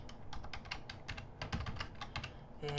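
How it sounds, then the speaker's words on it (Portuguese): A computer keyboard is typed on in a quick burst of close, crisp key clicks, irregular but rapid, with a slightly heavier keystroke at the end. "Vou digitar areta"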